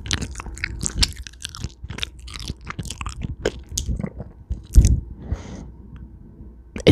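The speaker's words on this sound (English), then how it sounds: "So right now we're gonna eat our first cheese cube." A cheese cube is chewed close to the microphone, with wet, crunchy bites and squishy mastication in an irregular rhythm, loud and intimate, no talking.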